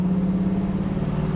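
A 1969 Chevrolet Camaro engine pulls hard while driving on a hot Florida day, a loud steady low drone from inside the car with no talking.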